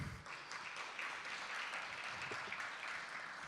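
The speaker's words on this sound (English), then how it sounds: "Akmal another round of applause there." Faint, steady applause from an audience at a career-week social media meetup, sustained evenly for a few seconds without a break.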